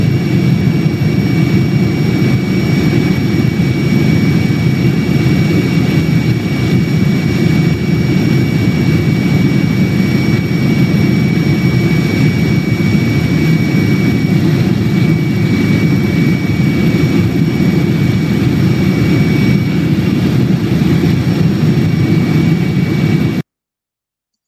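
A helicopter's engine and rotors roar steadily in flight during landing zone training, a loud, close, continuous drone with a constant whine, unbroken until it cuts off abruptly at the end.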